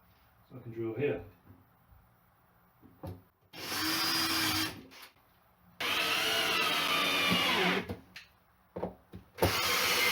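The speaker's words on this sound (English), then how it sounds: "So I can drill here." A power drill whirs in two sustained bursts of several seconds each, with brief talk and clunks between them, while fitting a door frame in a vocal booth.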